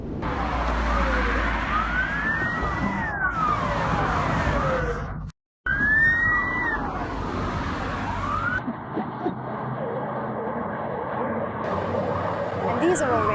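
Wailing sirens from fire engines, ambulances and police cars rise and fall over heavy traffic rumble, cutting out briefly midway before several sirens resume, loud and close, rushing toward an oil refinery after explosions.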